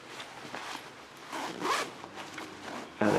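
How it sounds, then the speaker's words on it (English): A Decathlon Quechua Arpenaz 15° sleeping bag zipper slides along in a smooth, continuous zip, with a brief louder pull near the end, close and clear. "let's slide the slider right down along the zipper."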